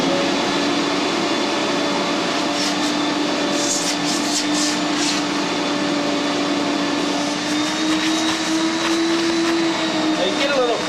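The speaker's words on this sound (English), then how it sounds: "I'll turn the vac on. It's going to make a little bit of noise" A wet vacuum motor runs continuously on carpet with a steady high whine and airy roar, pitch shifting slightly as it works.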